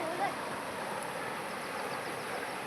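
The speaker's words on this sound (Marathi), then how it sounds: "पण तसं नाही, तो धबधबा आहे." Water rushing at a village waterfall near Madgaon, a steady broadband roar that stays even and continuous throughout, with no clear voices over it.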